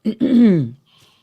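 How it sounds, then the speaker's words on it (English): A short, close throat clearing: a quick rasp followed by a longer voiced grumble that fades out, then quiet. "Maybe some throat clearing here today"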